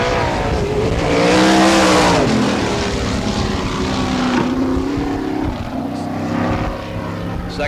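A sprint car at the All Star Circuit of Champions Florida Speedweek in Barberville, Florida, roars around the dirt oval on a timed lap, its engine pitch sweeping up and down as it passes, loud and continuous, with a faint voice underneath.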